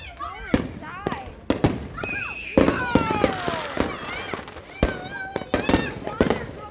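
Fourth of July eve fireworks going off nearby: repeated sharp bangs and crackling bursts with whistling rising trails, loud and irregular, while people talk and exclaim over them.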